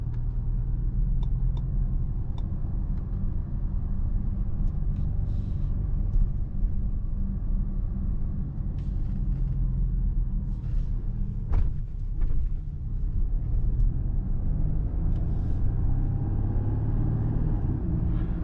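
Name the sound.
car accelerating in sport mode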